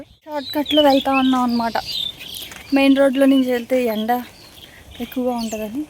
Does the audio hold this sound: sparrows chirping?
yes